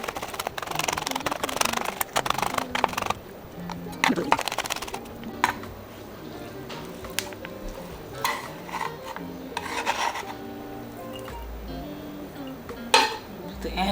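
Knife chopping anchovies on a cutting board for Caesar dressing, a run of irregular sharp taps and scrapes, close, with occasional talk in between.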